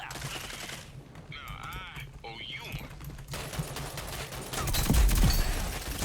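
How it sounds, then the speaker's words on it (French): Gunfire crackles in the shooter game Rogue Company as a player pre-fires, with bursts of shots and rapid fire that turn louder and denser toward the end, mixed with game sounds. Short spoken lines come through early on. "je tire un peu en mode pré-shoot"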